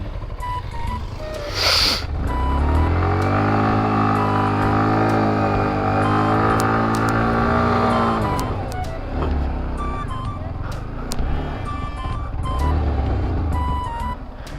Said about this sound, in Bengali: চাকা এক জায়গায় ঘুরে।